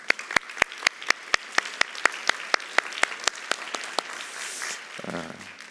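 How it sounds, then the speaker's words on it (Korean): A Korean church congregation at a Sunday worship service in Seattle applauds in celebration. A sharp, evenly paced run of close claps rides over softer clapping from the room, and then it fades to a low rumble. "우리 축하의 박수 한번."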